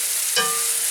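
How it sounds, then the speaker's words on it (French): Onions, shallots and leek whites sweat in a pan with a steady close hiss and one brief stir or scrape, no voices. "nos échalotes et blancs de poireaux. On est en train de les faire suer."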